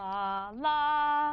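A sustained harmonic tone, sung or played, holds one pitch and then glides up to a second pitch a fifth higher, with no other sounds.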